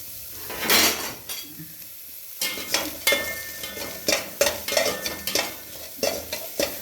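Spices dry-roast in a pan without oil for pudina rice, loud and close, with a quick rhythmic run of scraping stirs and clatter over a light crackling sizzle.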